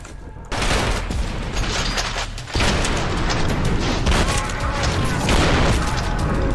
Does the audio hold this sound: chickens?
no